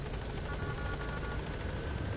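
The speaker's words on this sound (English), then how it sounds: "so let's call the helicopter" Inside the Metal Gear Solid 5: The Phantom Pain video game, a support helicopter approaches for pickup, its rotor making a steady, loud, close whirring drone with a dense rumble throughout.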